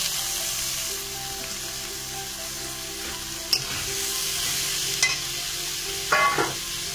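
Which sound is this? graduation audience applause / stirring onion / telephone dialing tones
stirring onion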